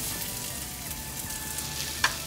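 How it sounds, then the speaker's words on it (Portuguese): Bacon frying in a heating frying pan, rendering its fat, a continuous close crackling sizzle with a single sharp tap near the end. "Eu vou pegar uma frigideira e a gente vai fritar o bacon"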